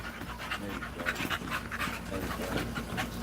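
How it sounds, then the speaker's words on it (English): Several dogs at a kennel pant together in a steady, rhythmic huffing, close and continuous throughout. "Look at all these dogs in harmony right now."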